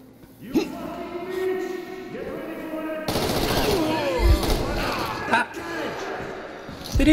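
Automatic gunfire in Metro Exodus, shots coming through a wall, a rapid burst of loud cracks that is then drowned by a dense roar of fire and impacts, with uneven thumps and a person talking over it.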